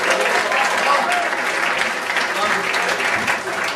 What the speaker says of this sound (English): Give a big round of applause to Rooster Teeth